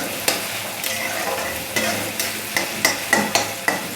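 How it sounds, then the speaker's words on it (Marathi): Onion frying in a pan for a potato bhaji, a constant sizzle broken by repeated scraping strokes of a spoon stirring, close and clear with no talking. "कांदा फ्राय होतो आपला."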